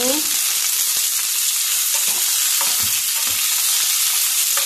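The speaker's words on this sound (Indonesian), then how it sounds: "Goreng dulu ya." Ingredients for green sambal fry in hot oil, a loud, dense and continuous close-up sizzle with occasional soft stirring clicks.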